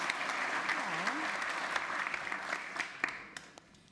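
An audience at a talk welcomes a speaker with a steady wash of clapping that starts full and gradually thins out toward scattered final claps, with a short voiced sound heard over it early on.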